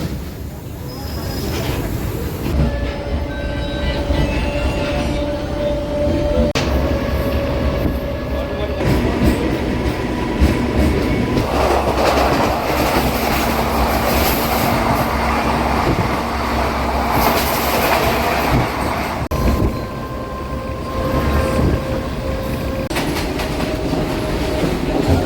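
At Nandalur station, a goods train rumbles past a stopped DEMU train, giving a steady, loud rolling rattle and clatter of rail wagons that runs unbroken for the whole stretch.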